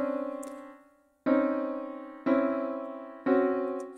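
Three sustained tonal chords sound one after another after an opening tone, each struck clearly and left ringing, steady and evenly spaced with no talking.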